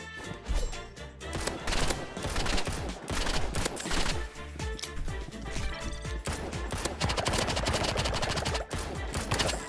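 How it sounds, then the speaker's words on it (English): Rapid gunfire in the Roblox Rivals video game, a dense, continuous burst of loud shots firing almost without pause. "if I just try to shoot, I have no idea where my bullet's going right now with this crosshair"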